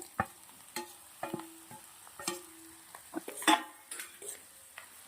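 Bread stirred into a pan seasoned with chilli powder, salt and turmeric: quiet, intermittent spoon clinks and scrapes against the pan over a faint sizzle, with no voices.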